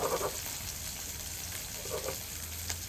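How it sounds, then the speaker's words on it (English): Vegetables sautéing in a pan with a steady, soft sizzle that holds throughout, with a few brief clinks and bumps near the start and end. "And we will saute them for some minutes."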